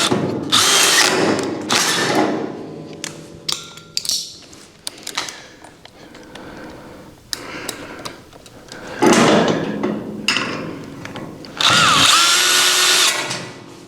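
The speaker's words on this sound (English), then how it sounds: "it's nice having an extension on your drill or on your drill motor, because then things drive in there really nice" Power drill fitted with an extension drives large screws with washers into threaded inserts while a Recteq Deck Boss 800 grill is assembled, several close, loud whirring bursts separated by clanks and handling noise.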